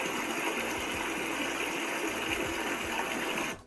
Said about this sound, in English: I can have stream.